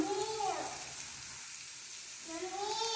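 Chili powder, turmeric and salt frying in hot oil give off a steady, close sizzling hiss that runs through the whole stretch, with a faint voice at the start and end.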